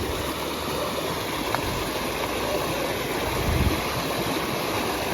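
Stream water rushes steadily over rocks outdoors, a loud, continuous, close broadband wash with no pauses.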